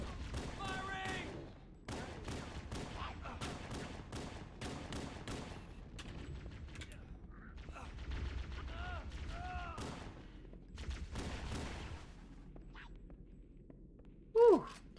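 Rapid gunfire in the shooter game Halo: Combat Evolved, dense bursts of shots in a game battle, mixed with in-game character voices and a loud thump near the end.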